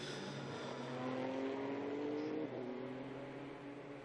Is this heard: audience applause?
no